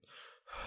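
A podcast host's breathing is picked up close to the microphone: a soft airy inhale, a short pause, then a louder rushing breath, faint and with no speech.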